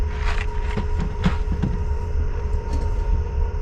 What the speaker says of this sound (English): Can you hear the train coming by?